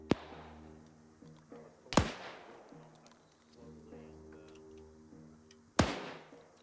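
Scattered gunfire in a video game: three sharp, loud cracks spaced a few seconds apart, one at the start and two more later, over a low droning hum and faint background noise.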